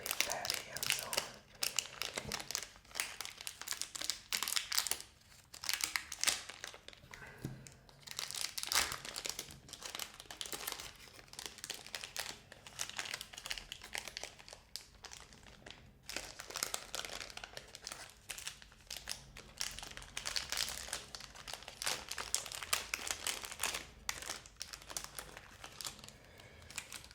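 A plastic bag crinkles and rustles in irregular bursts while Swiss food is unpacked, close and quiet, with crisp crackling bouts separated by brief lulls.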